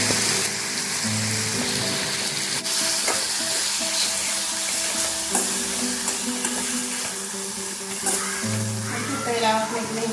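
Bitter gourd fries in hot oil with a dense, continuous sizzle and crackle that stays close and steady throughout, while a voice speaks intermittently over it.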